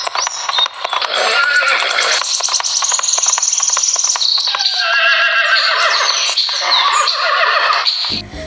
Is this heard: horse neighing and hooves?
yes